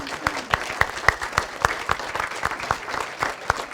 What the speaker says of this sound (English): give yourselves a warm hug and a round of applause